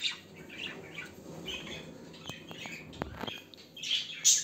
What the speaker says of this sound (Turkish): Çok güzel bir papağan arkadaşlar.